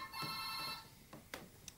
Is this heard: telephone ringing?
yes